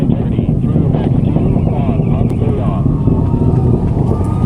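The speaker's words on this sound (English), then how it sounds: "Now about 1 minute in flight, the SLS rocket traveling faster than the speed of sound." Roaring broadband rumble from the SLS rocket's RS-25 engines during the Artemis 2 launch, about a minute into flight near max Q, steady and dense throughout with a faint voice underneath.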